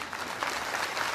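Applause from an audience at a religious gathering at an ashram discourse, a dense, steady patter of many hands clapping at moderate loudness for a short burst, with no talk over it.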